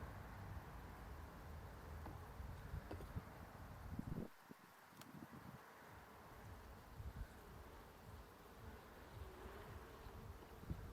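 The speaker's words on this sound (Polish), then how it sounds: "Widzę, że pszczół jest pełno." A dense, continuous buzzing of many honeybees up close at an open hive during an inspection, with occasional rustling and knocks, steady throughout.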